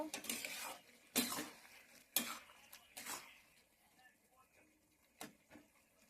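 Metal pot of hilsa fish head cooked with ash gourd being handled and lifted off a gas stove, giving a few sharp clanks and scrapes with quieter clinks in between.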